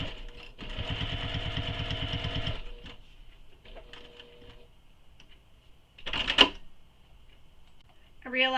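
Sewing machine stitching a tote bag, a fast rhythmic needle whir for about two seconds, then quieter intermittent handling and a short later burst of machine noise.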